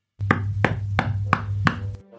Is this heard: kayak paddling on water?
no